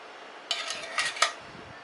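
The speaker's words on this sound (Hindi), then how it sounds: "इसे हम अच्छे से मिक्स कर लेते हैं।" Rice paste being stirred into grated potatoes in a bowl, giving a few brief clinks and scrapes of utensil on dish in quick bursts, close up and fairly quiet with no talking.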